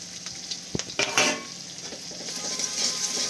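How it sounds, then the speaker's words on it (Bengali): Onions frying lightly in a pan for chilli egg give a steady close sizzle, with a few sharp clinks and scrapes of a stirring utensil early on, and no talking. "এরপর পেঁয়াজগুলো এরকম হালকা ভাজা হয়ে যাবে।"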